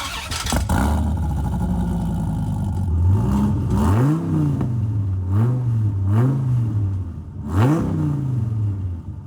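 A Dodge Viper ACR engine cranks and fires up, then revs repeatedly in sharp bursts, each throttle blip rising and falling in pitch, loud and close.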